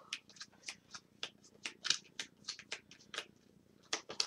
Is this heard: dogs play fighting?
no